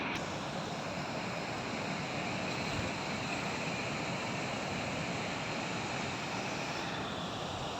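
Large ocean waves breaking on a beach at General Nakar, Quezon, heard as a constant broad roar of surf, steady and fairly faint with no voices.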